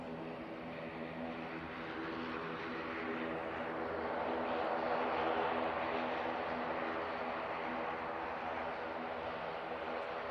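At Manchester Airport, an Emirates airliner's engines spool up after pushback as a low, steady jet roar that swells slightly and holds, heard from a distance with no talk.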